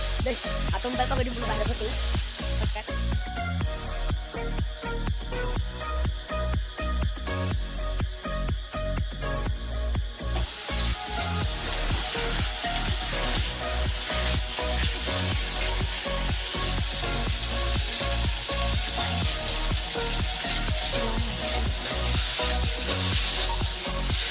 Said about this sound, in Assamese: পালেংখিনি দিয়াৰ পিছত আকৌ অলপ লৰাই ল'ব